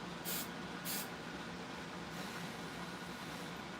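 Hairspray sprayed onto a skinny tumbler wrapped in double-sided tape, heard as two short hissing bursts near the start, then a low steady background hum.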